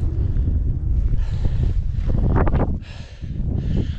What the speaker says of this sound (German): auf dieser Seite windet es noch richtig